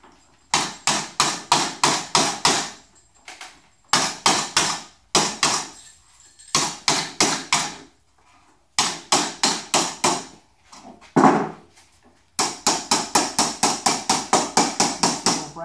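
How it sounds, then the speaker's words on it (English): A brass hammer forms a metal vertical fin rib clamped on a form block, striking in quick rhythmic bursts of several close, sharp blows separated by short pauses, loud and near with no talking. "Brass hammer up here on the small radius."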